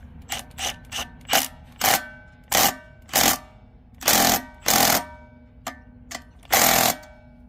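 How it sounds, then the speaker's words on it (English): Cordless impact wrench tightening a bolt on a Honda GCV190 small engine, firing in a series of short rattling bursts of varying length separated by pauses, close and fairly loud. "I'm going to use the impact to tighten it down."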